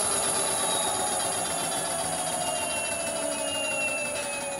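A high-powered DIY electric bike motor runs with an uncalibrated throttle, giving a steady whine with rising and falling tones over a constant mechanical hum, close and fairly loud with no talk.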